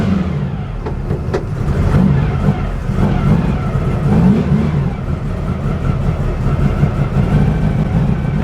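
A Baja Bug Beetle engine drones loudly and steadily while the car is driven, with a rough low rumble filling the cabin and no clear voices.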